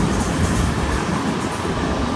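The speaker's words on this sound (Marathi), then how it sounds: "आता ट्रेनमध्ये बसले आपण आता" A local train runs between Bhayandar and Virar, heard from inside the carriage as a steady, loud rumble of wheels and rattling coach, continuous with no talk.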